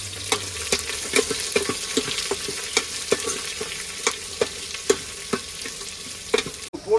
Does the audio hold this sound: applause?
no